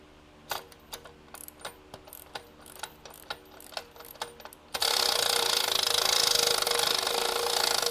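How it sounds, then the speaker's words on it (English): An electric ratchet in a garage works on a bolt, giving a run of irregular clicks and ticks, then a loud continuous motor whir takes over for the last few seconds. "get the electro ratchet out"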